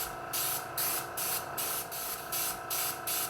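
Short bursts of airbrush color sprayed as a light coating over a stencil on a cake, about eight even hissing puffs in a steady rhythm, close and alone.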